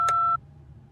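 A phone keypad gives one short, clear dialing tone up close, then a faint hum follows.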